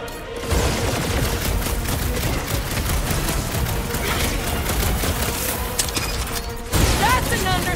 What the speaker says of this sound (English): Blow him away, Rocket!